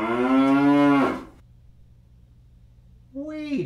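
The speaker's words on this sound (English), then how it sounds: "That was a cow that just went by." A cow passing by gives a long, loud, close moo lasting about a second, followed by quiet, then a second moo starting just before the end.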